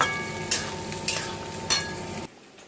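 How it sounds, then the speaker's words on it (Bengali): A pan of curry with fried paneer pieces simmers with a steady sizzling bubble, broken by three sharp stirring scrapes at even intervals before the sound cuts off abruptly. "আর এদিকে ঝোলটা ফুটে গেছে, ভেজে রাখা পনিরগুলো দিয়ে দিলাম।"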